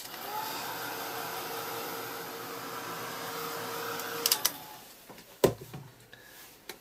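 A hair dryer blows steadily for about four seconds to dry paint on a mixed media art journal page, then cuts off, followed by a few sharp clicks and handling knocks nearby.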